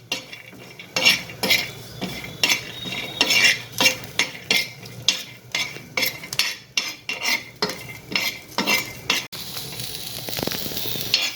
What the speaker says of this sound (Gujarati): હવે એમાં લસણ નાખીશું. લગભગ 15 થી 20 કળી જેટલી મેં નાખી છે. હવે એને પણ આપણે શેકી લઈશું.